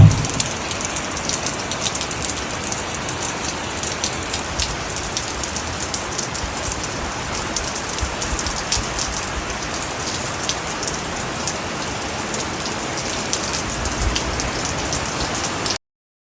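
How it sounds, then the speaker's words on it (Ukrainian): Steady rain falls on a hard surface, a dense even patter that continues without pause from start to finish. "Такий гарний дощ, подивіться"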